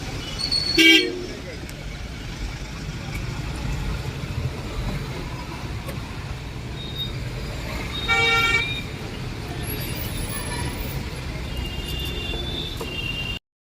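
A traffic jam at Guntur market, where two loud horn blasts ring out over a low, steady rumble of idling vehicles, with voices talking in the background.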